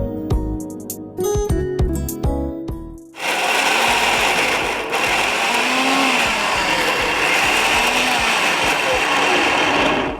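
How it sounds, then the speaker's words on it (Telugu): A mixer grinder blends beetroot chutney with garlic, running as a loud, steady whirring roar after a few seconds of talk and kitchen sounds. "మళ్ళీ ఒకసారి మిక్సీ పట్టుకుందాం"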